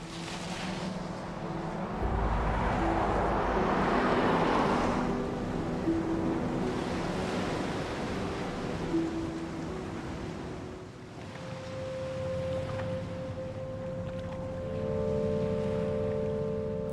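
Ocean surf with waves washing and rolling over open water under a steady wind, a continuous broad wash that swells and eases, with a low engine-like drone in the background.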